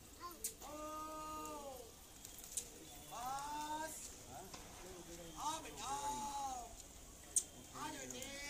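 A racing pigeon gives several faint, wavering coos in short bursts, spaced a second or two apart, amid soft background noise and occasional light knocks, with a voice also present.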